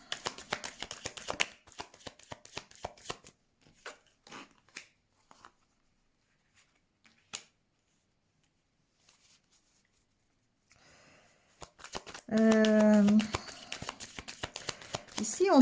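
Tarot cards being handled and shuffled: rapid papery riffling bursts at the start, then sparse soft card taps through a quiet stretch, with someone talking over the end.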